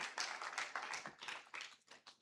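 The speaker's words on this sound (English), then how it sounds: "An applause, please" Scattered applause for a debate speaker at a regional quarter-final, faint and thin, a handful of separate claps in an uneven rhythm with no voices over them.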